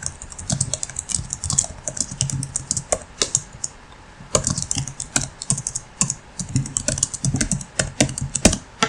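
Irregular clicks of typing on a computer keyboard while writing Java code in Eclipse, crisp and close, arriving in quick uneven bursts with short pauses and no talking.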